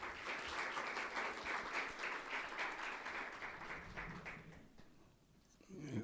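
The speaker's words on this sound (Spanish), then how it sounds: "Vamos a recibir con un afectuoso aplauso" An audience at a museum lecture gives warm applause to welcome a speaker, steady dense clapping that fades toward the end.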